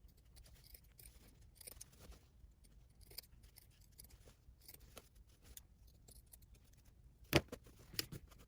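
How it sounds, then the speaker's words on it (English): Scissors trimming fabric seams on a doll jacket, quiet snips and small rustles near the mic, with one sharper clip near the end. "I'm going to trim my seams down the bottom."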